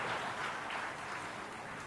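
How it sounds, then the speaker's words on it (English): An audience at a book reading applauds the author Jairam Ramesh with a short burst of dense clapping that stays loud and steady throughout. "Jairam deserves a big round of applause"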